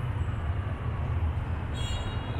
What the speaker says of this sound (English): There's a Line 3 train.